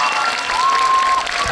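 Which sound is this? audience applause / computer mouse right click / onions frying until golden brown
audience applause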